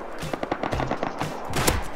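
AK rifle fire in the game Rust, a rapid string of loud, punchy close shots in uneven bursts, some overlapping with distant return fire.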